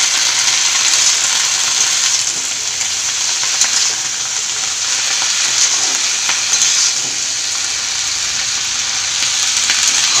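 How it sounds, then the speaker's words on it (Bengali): Chopped bottle gourd greens fry with cumin seeds and salt in a pan, a loud, steady, close hiss of sizzling with faint stirring scrapes, continuous throughout. "শাকটাকে ভালো করে ভেজে নিব।"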